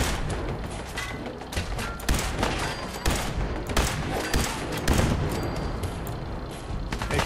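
Rapid bursts of gunfire from shooting enemies in Fallout 4, dense overlapping shots and mechanical clatter running loud and continuous throughout.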